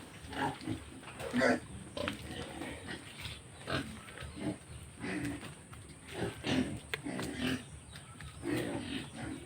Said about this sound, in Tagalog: Paalam mga mahal kong baboy.